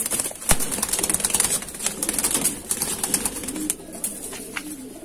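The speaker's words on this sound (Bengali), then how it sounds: "অ্যাকচুয়ালি নতুন পায়রা তো খুব ভয় পাচ্ছে পায়রাগুলো" Madrasi pigeons coo softly and flap their wings in sudden bursts, close by, with rustling movement between calls and no one speaking.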